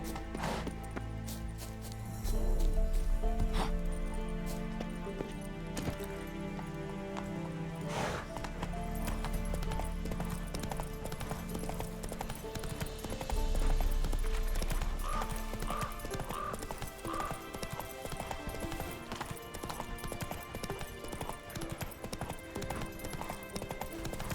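Horse hooves clip-clopping at a steady galloping rhythm in an open-world fantasy video game, with occasional whinnies and neighs over a dense game soundtrack, running continuously throughout.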